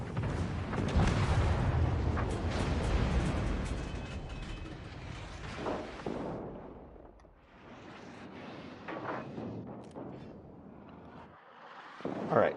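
Secondary guns on the battleship Bismarck firing in the naval game World of Warships Legends, rumbling booms and blasts through dense battle noise, easing toward the end with a final sharp burst.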